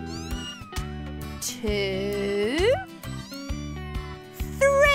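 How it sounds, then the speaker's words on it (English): Cartoon newborn kittens give high, wavering meows in short repeated calls over a busy animated-show music bed, with a voice counting among them. "Three beautiful kittens."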